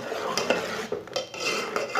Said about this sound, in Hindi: इसे मैंने अच्छी तरह फेंट लेना है।